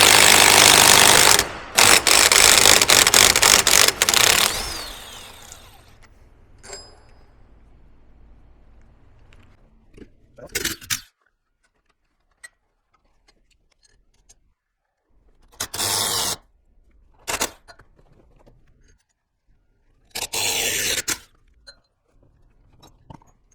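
Wrench and ratchet work tightening ARP wheel studs into a Nissan 350Z hub, with loud clattering bursts at the start, then a few short, separate ratcheting spurts among quiet gaps.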